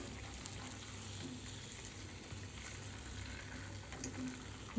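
Chicken leg pieces fry steadily in hot oil, giving a continuous close sizzle with soft stirring scrapes and occasional pops throughout, no voices.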